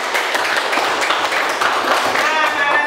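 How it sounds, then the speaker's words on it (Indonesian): Students in a classroom give their classmates a round of applause, a dense, steady patter of hand claps lasting the whole stretch with voices mixed in. "tepuk tangan dulu."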